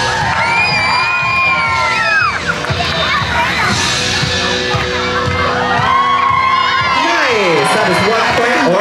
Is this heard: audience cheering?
yes